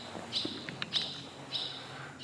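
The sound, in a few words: barn swallow calls in a cave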